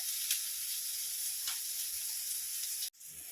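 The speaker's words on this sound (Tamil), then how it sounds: "ஒரு பெரிய வெங்காயம் நறுக்கிறத போடுறேன். வதங்கட்டும்." Steady sizzling and crackling of chopped onion sautéing in a hot pan, close and continuous, with a brief stir near the end.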